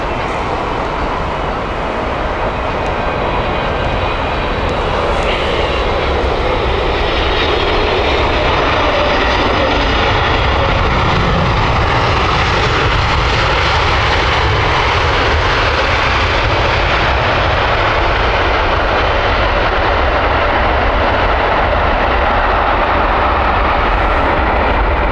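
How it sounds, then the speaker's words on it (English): A Kuwait Airways Boeing 777 arrives at Heathrow Airport with a long, sustained jet roar. The engine noise swells and hangs broad and steady for over twenty seconds, with no voices. "Q8 aircraft inbound now, 777."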